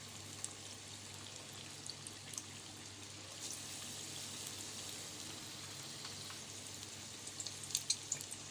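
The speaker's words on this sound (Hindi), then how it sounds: "अब मैं देखिए इसको डीप फ्राई कर रही हूँ।" Vadas deep frying in hot oil for wara pao give off a faint, steady sizzle and crackle, quiet and continuous, with a few small pops near the end.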